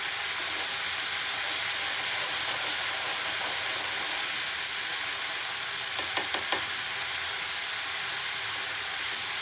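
Masala Maggi noodles simmer in a little water, giving a constant soft sizzle and hiss, with a few quick clinks of a utensil near the end.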